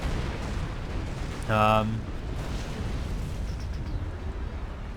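Incoming artillery shots and explosions in the real-time strategy game Supreme Commander FAF, with a loud burst near the middle set against a constant rumbling battle background.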